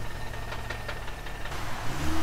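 A Mini Cooper R50 engine idles out of gear, a steady low rumble with faint ticking heard close up and alone, its tone shifting slightly near the end.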